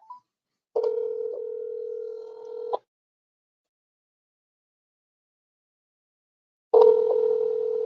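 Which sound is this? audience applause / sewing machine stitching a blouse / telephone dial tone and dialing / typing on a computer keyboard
telephone dial tone and dialing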